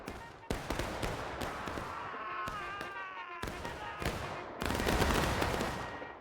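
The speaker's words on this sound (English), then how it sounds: "Let's see this volley." Massed musket volley in the Civil War game War of Rights: a ragged string of loud, close gunshots cracking out in bursts, with a dense, roaring crackle of fire toward the end.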